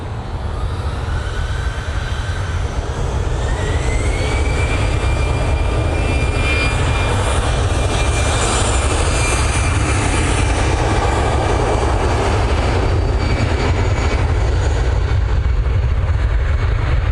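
A jet airliner departs for Belfast from Manchester Airport, a loud steady roar of engine noise with a rising whine, sustained and broad throughout without speech.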